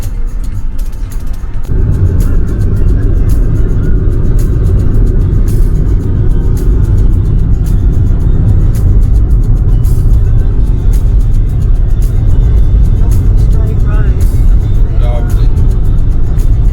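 A car, a hired vehicle on the drive from Johannesburg Airport to Winterton in South Africa, heard from inside as a steady, loud low rumble of engine and road noise that holds on without a break.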